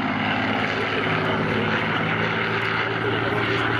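A Supermarine Spitfire with a 1,700-horsepower engine flies overhead at an airshow at Slávnica airfield in Slovakia, its loud propeller-engine roar droning steadily throughout.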